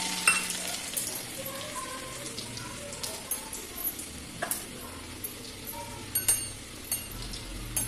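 Garlic sizzling in hot oil with mustard and cumin seeds: a steady frying hiss with scattered small pops and crackles, at moderate volume, and some faint clinks from a pan or spoon. No one speaks.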